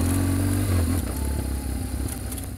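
A BMW GS motorcycle creeps along slowly on clutch and brake, its engine running close and steady with a low throb, then easing off into clattering mechanical and gravelly scraping noise.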